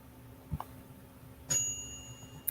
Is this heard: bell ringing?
yes